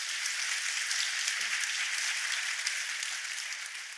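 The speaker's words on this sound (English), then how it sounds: "Give them one more applause, please." Sustained audience applause for panel members at a tech conference, a steady broadband wash of many hands clapping from a crowd, fairly loud and continuous before fading slightly at the end.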